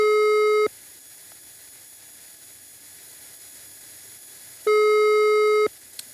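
After a phone number is dialed, a telephone line gives two long, steady electronic tones separated by a stretch of quiet. The tones sound clear and close, and no one speaks.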